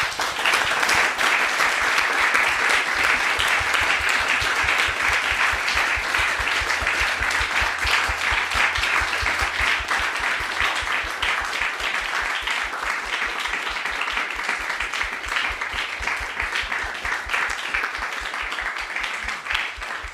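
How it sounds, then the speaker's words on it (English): Audience applause after a lecture-recital, a sustained, even round of many hands clapping that holds steady for the whole stretch with no talk. "a last round of applause"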